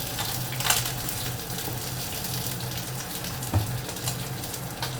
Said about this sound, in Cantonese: 我哋就會將佢反轉，再煎另外一邊